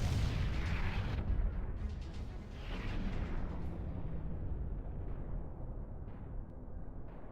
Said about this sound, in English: Explosion at the valve.